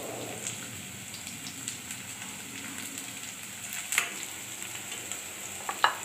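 Curry leaves and chopped green chilies fry in hot oil for a sprouted moth bean dish, giving a steady, close crackling sizzle with scattered sharp pops and spits, no speech.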